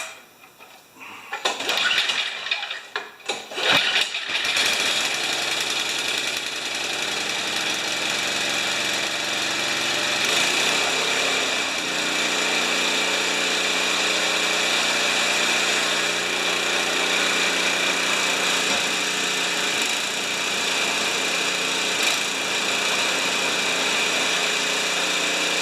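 A snowmobile engine runs steadily on choke after a short burst of revving, settling into a constant loud idle with a faint knocking, mechanical texture, close by and with no talk.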